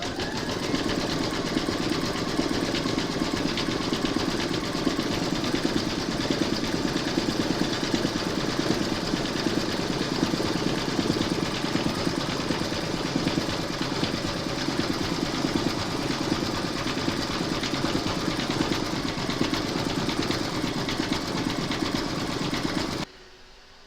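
An embroidery machine stitches a chain detail in hot pink thread for an in-the-hoop coffin coaster, a steady, loud, continuous mechanical whirring that runs unbroken for the whole stretch and stops abruptly at the end.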